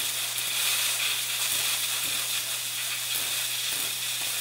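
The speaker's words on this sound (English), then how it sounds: "you have to get yourself a can of compressed air" Can of compressed air spraying into the left button of a Logitech G700 mouse, a continuous close forceful hiss held steady throughout with a faint low hum beneath.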